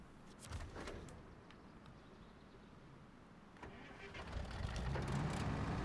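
A truck engine starts in the off-road driving game Expeditions: A MudRunner Game, with clicks and clunks first, then the motor cranking and catching into a steady idle that grows louder at the end.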